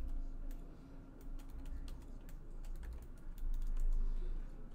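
Quick, uneven bursts of key clicks from a computer keyboard typed nearby at moderate volume, over a low background hum.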